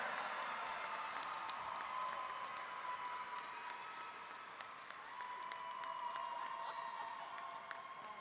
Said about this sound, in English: Let's get one more round of applause to all our finalists and winner for State Star in Agribusiness.